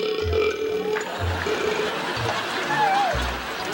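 A loud, low belch rumbles out in several separate bursts while people chatter and laugh in the background.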